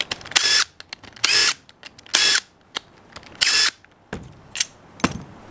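Rotax DD2 kart gearbox M8 cap screws being removed with a power tool, several loud whirring bursts of a rattle gun spaced by short pauses, close and alone with no talking.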